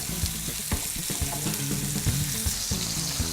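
Steak frying in a pan with rosemary and garlic, a dense, loud, continuous sizzle and crackle with scattered pops and spits, close up and without talking.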